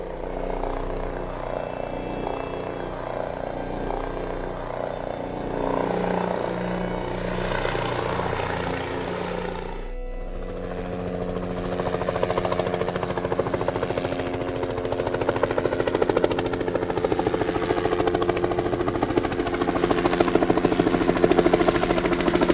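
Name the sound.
helicopter flying in a video game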